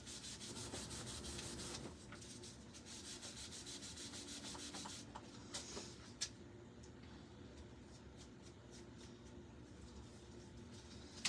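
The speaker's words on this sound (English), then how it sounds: "we're just going to rub that right on there like we would any stain" Copper stain being rubbed by hand onto a wooden banner, a close, steady dry scrubbing that runs continuously with brief pauses and a few small taps near the end.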